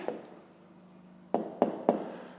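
A pen writes an answer on paper in a quiet scratch, then three quick sharp taps or strokes close by.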